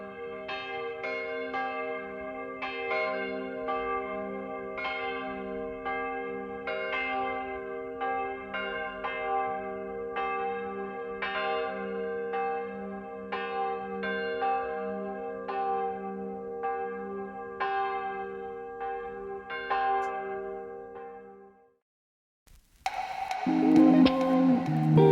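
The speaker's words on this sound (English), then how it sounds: "It was so quiet, except for the beautiful sound of the bells." Church bells ring out over a quiet Icelandic town at sunset, a steady rhythmic peal of overlapping resonant strikes lasting about twenty seconds before stopping abruptly, followed by a burst of louder, rougher noise.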